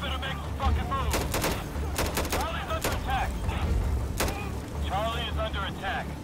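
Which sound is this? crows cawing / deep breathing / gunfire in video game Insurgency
gunfire in video game Insurgency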